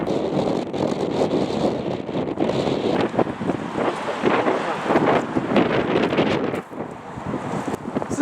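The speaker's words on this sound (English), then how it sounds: "It's a bit breezy." Wind gusts hard across the microphone outdoors on a breezy day in Cornwall, a continuous loud rumbling buffet with a brief lull near the end and faint voices underneath.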